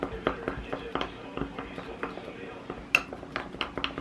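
A spoon clinks repeatedly against a bowl while stirring melting chocolate, a series of close, sharp taps and scrapes in an irregular rhythm, with a person talking softly.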